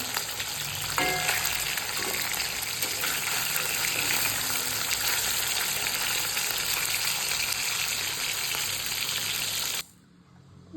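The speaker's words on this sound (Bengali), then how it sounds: "এবার মাছগুলোকে একটু লাল লাল করে ভেজে নেব" Pieces of katla fish sizzle steadily in hot oil in a wok as they fry, a dense continuous crackle with faint clinks of a utensil, before the sound cuts off abruptly near the end.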